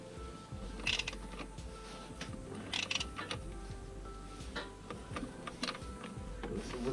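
Tightening a fitting on a turbocharged BMW M20B25 engine with a 27 mm wrench: scattered soft metallic clicks and ticks at an uneven pace, close by and fairly quiet, with no talking.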